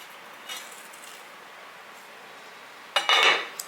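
A cooking pot of boiled gooseberries being opened: a brief clink and metallic scrape of the lid lifting off, close and fairly soft, after a quiet room with faint light knocks.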